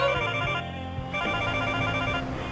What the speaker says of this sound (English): Hold on, my cell phone's ringing.